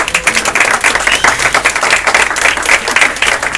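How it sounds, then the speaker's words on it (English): Dense, continuous applause from an audience honoring champion riders at a Tour de Cure charity cycling event, loud and close, with no pause for its full length. "So everyone, a round of applause to our champion riders."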